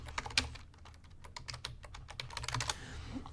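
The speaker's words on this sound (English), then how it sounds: "1 second here as I type this in." Quick, irregular clicks of a computer keyboard as someone types a short entry, close and fairly quiet with no talking over it.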